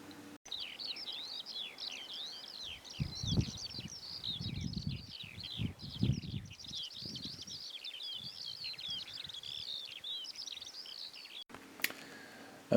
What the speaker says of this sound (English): you can have a listen to some birds singing rather nicely